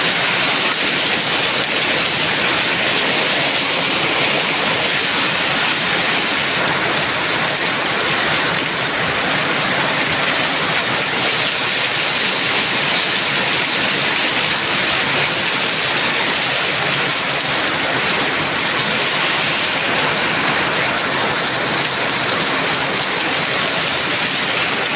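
Heavy rain driven by strong wind in Jakarta, a loud, constant roaring wash of water like a torrent, steady and close for the whole stretch with no breaks or voices.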